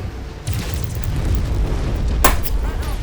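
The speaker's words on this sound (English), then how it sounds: "This ammo explosion got me." Ammo explosion in the video game MechWarrior 5: Mercenaries, a loud deep boom that kicks in and rumbles on, with a sharp crack partway through, dense and close.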